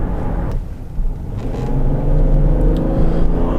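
A 2016 Subaru Outback 3.6R accelerates with a steady low engine rumble that builds and holds, close and continuous with no talk.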